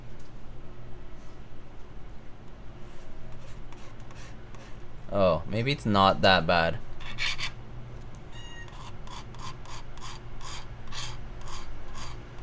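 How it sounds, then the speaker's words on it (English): A piece of plastic rubbed across a low-grit blasted keyboard case with fine anodizing, producing scratchy rasping strokes close to the mic, several bursts of rubbing with a voice talking briefly. "like if I rubbed a piece of plastic or something on it, you would hear it"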